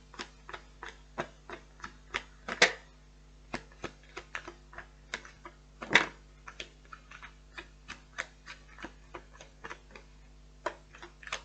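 Tarot cards are shuffled by hand in a quiet room, giving a long run of crisp, irregular card snaps and flicks, with a few louder riffles standing out.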